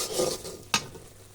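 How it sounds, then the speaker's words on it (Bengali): Chalta fruit pickle being stirred and sautéed in a pan: a soft scraping stir over faint sizzle, with one sharper scrape of the spoon near the middle, close and fairly quiet, no talking. "একটু নাড়াচাড়া করে ভালো করে কষিয়ে নিলাম।"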